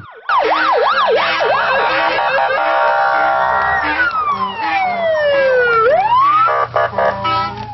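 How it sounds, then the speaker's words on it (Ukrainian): A loud police car siren wails up and down, then sweeps through long rising and falling tones, with a crowd murmuring faintly underneath, in a courtyard in Zhytomyr. "І ось нарешті здалеку лунає звук сирени."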